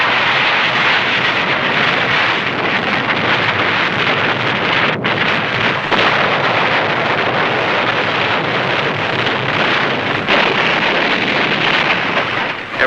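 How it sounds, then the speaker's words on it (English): Navy planes roar steadily overhead during a bombing and strafing attack on Tarawa in 1944, a loud continuous aircraft engine drone with wind buffeting and no talk. "When the ship stopped firing, the Navy planes would take over."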